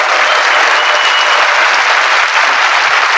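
Studio audience applauding steadily for a guest professor just introduced, a dense, loud wash of clapping that holds evenly throughout with no voices over it.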